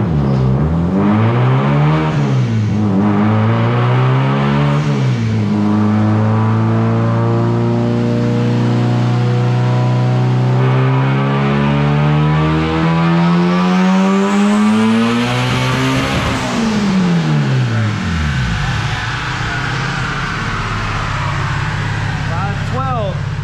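A Honda Prelude engine revs hard and loud on a dyno, its pitch climbing and falling through several sweeping pulls, with voices talking over the roar.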